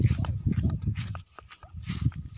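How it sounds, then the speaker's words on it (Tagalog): Horses walk along a farm path with soft, uneven hoof clops close by, mixed with rustling and occasional animal sounds. "Kung nakikita nyo, may mga kabayo."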